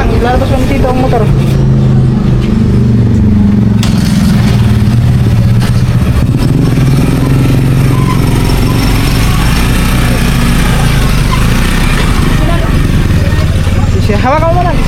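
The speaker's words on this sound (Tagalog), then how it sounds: "ilalabas mo dito ang motor" A motorcycle engine running loud and close as the bike is brought out at a rural farm, a rough continuous idle with some revving, while people talk over it.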